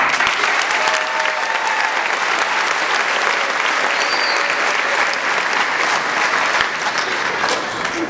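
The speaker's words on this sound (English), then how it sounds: "I would like to extend a congratulatory round of applause to recognize your great achievement." Sustained, loud applause from a graduation ceremony audience for the class of 2013, a dense wash of many hands clapping steadily without pause.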